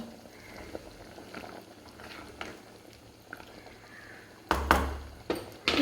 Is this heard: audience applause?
no